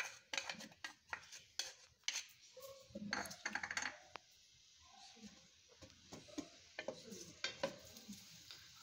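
Chopped medium onion cooks in a cup of oil in a pot, giving a faint sizzle under repeated scraping and clinking as a utensil stirs the pot, with soft voice sounds here and there.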